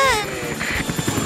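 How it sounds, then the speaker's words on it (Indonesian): A helicopter arrives, its rotor thumping in quick low pulses under a steady broadband engine roar, loud and close throughout the short span, with a brief high whistling tone at the very start. "Aku akan menelpon helikopter."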